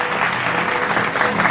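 A church congregation at a Sunday service applauds in a dense, steady wash of clapping, loud and continuous.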